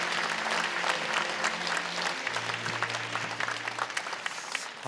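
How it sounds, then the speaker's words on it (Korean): Church congregation at a Sunday worship service applauding to welcome newcomers, a steady, full crowd clapping that fills the room for several seconds, with a low sustained tone underneath. "여러분께 박수로 환영하시죠"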